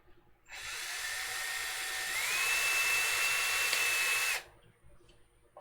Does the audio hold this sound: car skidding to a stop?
no